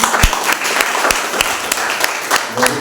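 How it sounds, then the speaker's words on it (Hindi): Church congregation clapping during a Sunday service, continuous loud applause with sharp nearby claps punctuating the crowd and a brief voice near the end. "अपने लिए एक एक ताली बजाएं।"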